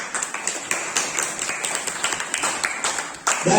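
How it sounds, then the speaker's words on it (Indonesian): Classroom applause for two students returning to their seats, brisk close-up clapping from a small group in a quick, uneven rhythm, with a louder burst at the end. "Tepuk tangan dong."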